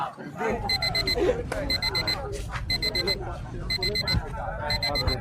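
An alarm clock rings in repeated bursts of rapid electronic beeps, loud and close, while people talk over it.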